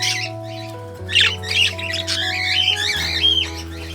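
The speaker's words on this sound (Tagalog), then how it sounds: "Nadatnan ko na namatay yung kaparis ng ating alagang parakit." A pet parakeet squawks and chirps in short repeated bursts, close and bright, over a steady low musical backing.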